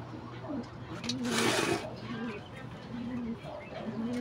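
Pigeons coo in low, repeated throaty phrases, steady and fairly close, over a constant background hum with a short burst of broadband noise in the middle.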